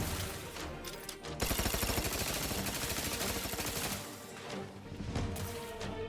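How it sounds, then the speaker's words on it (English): Sustained rapid gunfire from The Outer Worlds video game, a dense automatic burst after a brief lull, continuing loud and steady before easing slightly and surging again. "What else is shooting at me?"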